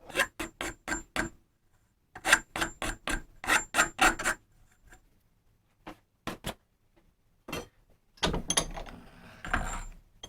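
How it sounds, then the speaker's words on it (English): A metal file rasps against the outside of the steerer tube on a 2010 RockShox SID Race 26-inch front fork, in quick bursts of stroking with short pauses, loud and close, no voices. "Now a file for the outside."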